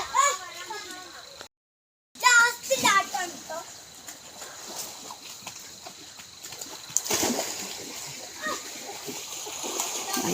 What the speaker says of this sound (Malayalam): വെള്ളത്തിന് നല്ല ഒഴുക്കുണ്ട്.